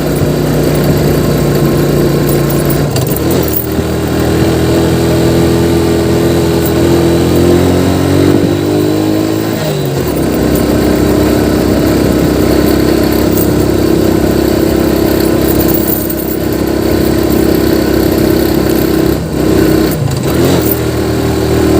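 A loud motorcycle engine idles and revs repeatedly, its pitch rising and falling in several surges over a steady rumble.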